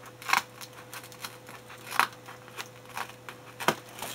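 Irregular crisp snips and crinkling clicks from cutting into packaging, a few louder cuts among softer ones over a quiet electrical hum.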